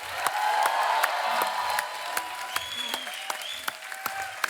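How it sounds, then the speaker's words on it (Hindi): Loud studio audience applause with some cheering on The Kapil Sharma Show: a dense burst of clapping that fades into scattered individual claps. "क्या बात है, जोरदार तालियां हो जाए"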